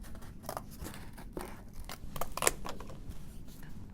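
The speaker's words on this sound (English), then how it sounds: "it might be better to use scissors" Scissors snipping through thin cardboard during a small craft build, a few crisp cuts spaced unevenly over a steady low background, with one sharper crunching cut near the middle.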